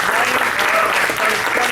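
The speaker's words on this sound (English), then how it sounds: "let me get a round of applause for Brian K." A studio audience at a comics Q&A with writer Brian K. Vaughan gives a loud, dense round of applause, steady and full throughout with no voices over it.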